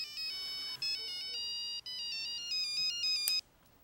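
A mobile phone plays a bright, melodic electronic ringtone in a Korean TV drama scene, its high tones cycling for several seconds before cutting off abruptly as the call is picked up.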